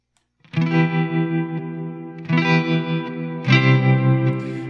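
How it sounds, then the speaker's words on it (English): Guitar played through a Strymon reverb pedal with tremolo ahead of reverb in the chain: three sustained, chiming strums, each pulsing with tremolo and blooming into a washy reverb tail, close and loud with no talking. "the tremolo is going to be first and then the reverb last"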